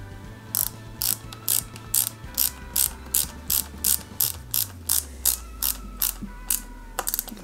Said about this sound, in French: Et on y va délicatement et on visse proprement.